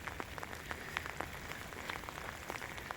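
Rain falls on a Ukrainian village garden in late autumn, a faint, steady patter of drops with scattered sharper taps, heard alone without any voices.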